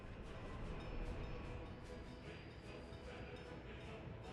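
An electric tram runs along its tracks in the Workers and Resources city-building game, a steady rumbling rail drone with faint clatter that holds throughout.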